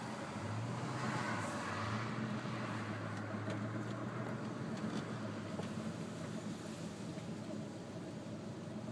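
A car drives slowly through an RV park in Tucson, Arizona, with a steady, even engine and tire rumble running throughout and no talk.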